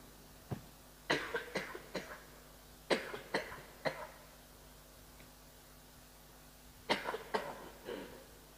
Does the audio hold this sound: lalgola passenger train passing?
no